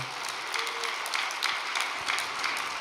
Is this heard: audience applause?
yes